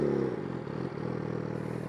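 A Yamaha R6 sport motorcycle idles up close with an even, continuous engine drone and a brief dip in pitch early on, and nothing else is heard over it.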